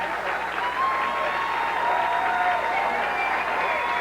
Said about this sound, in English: the overflow crowd here in suburban Denver, Colorado, giving him a standing ovation